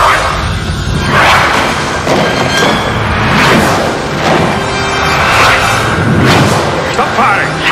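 Sci-fi weapon fire: a loud, dense barrage of booming blasts and whooshing thuds in repeated waves, layered over a constant roar, with voices shouting amid the noise.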